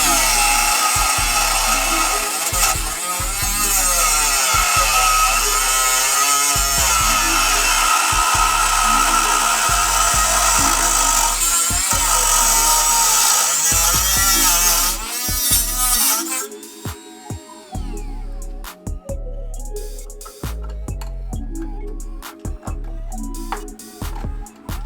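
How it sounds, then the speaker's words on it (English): Dremel rotary tool cutting out part of a car's core support on an AWD K20 Civic, a high buzzing grind under a repeating low thumping pulse, which then drops to sparse clicks and rattles. "part of the core support, I'm just gonna Dremel it out"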